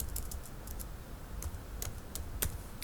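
Light typing on a computer keyboard while working on a table in Microsoft Word, with sparse soft key clicks in small clusters over a quiet room hum and no speech.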